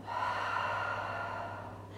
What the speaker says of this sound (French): Essayez de respirer, d'allier votre mouvement à votre respiration.